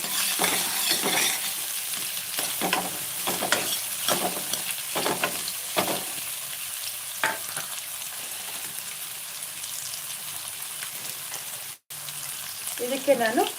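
Vegetables fry in groundnut oil in a pan with a steady, close hiss and sizzle, broken by occasional stirring scrapes.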